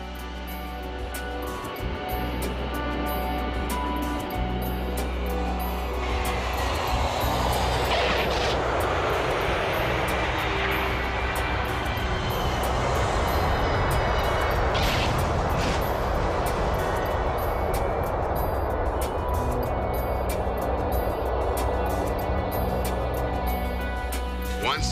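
A Pan Am airliner landing on runway 30, a loud, steady roar of jet engines that swells and holds for the whole stretch, with faint voices underneath.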